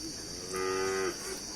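At a Thai livestock market, a single cow gives one clear, drawn-out moo of about half a second at moderate distance over a steady background hum.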